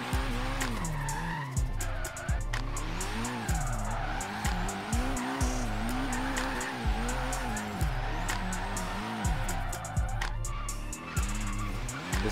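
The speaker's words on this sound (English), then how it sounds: "I'm going to show you what this looks like drifting." A car drifting in Forza Horizon 3 on a Formula Drift style track: a steady, loud engine roar with continuous tire squeal that rises and falls through long sweeping turns.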